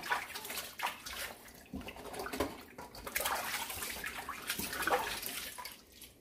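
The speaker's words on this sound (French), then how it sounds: "je prends l'eau dans laquelle j'ai ajouté le vinaigre. Je vais nettoyer." A raw turkey washed by hand in water mixed with vinegar; close sloshing and splashing in uneven surges, with trickles and drips between, and no talk.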